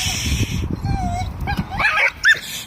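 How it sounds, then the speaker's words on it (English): A dog near a horse yips and whimpers in a few short, high bursts, close by, over a low background rumble. "they had a dog there barking"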